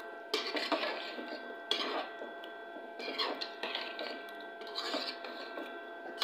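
Metal spoon scrapes and clinks around a pot as biryani is mixed with orange food colour, a steady run of close rattling strokes with short pauses between them.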